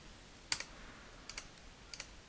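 Keys clicking on a computer keyboard in a quiet room, one sharp double tap followed by two fainter paired clicks.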